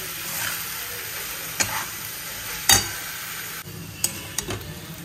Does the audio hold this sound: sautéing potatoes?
yes